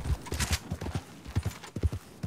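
Horse hooves clip-clopping in a video game, a quick uneven run of soft close thuds over about two seconds.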